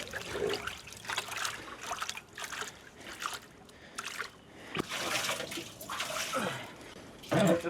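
Splashing and trickling water from an outdoor cold plunge comes in several bursts of sloshing and dripping, close and moderately loud, with brief quieter gaps between.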